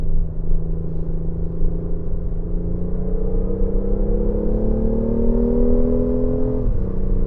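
A BMW i8 driving toward canyon roads, heard as a steady cabin rumble with a drive hum that slowly climbs in pitch, then dips abruptly near the end, loud and continuous with no talk.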